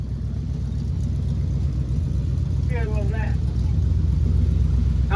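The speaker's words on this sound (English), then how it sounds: "That exhaust sounds good." A 1970 GMC C-15 pickup truck's exhaust rumbles deep and steady close by, with a brief voice speaking over the engine midway.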